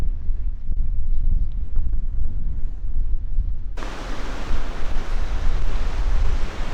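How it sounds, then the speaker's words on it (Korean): Ocean waves wash steadily against the volcanic rocky shore of the East Sea coastal walking path at Yeongdeok, a loud, continuous rushing surf that grows brighter and fuller partway through. "이번 영상은 파도 소리가 시원하고 듣기 좋아서 별도 배경음악은 넣지 않았습니다."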